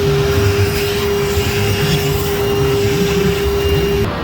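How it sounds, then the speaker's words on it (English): A Milwaukee shop vacuum sucking up shavings while fixing an Ice Ball Skee-Ball machine, giving a loud, constant whine with a steady tonal hum that cuts off at the very end. "now I gotta vacuum up all those shavings using my Milwaukee vacuum"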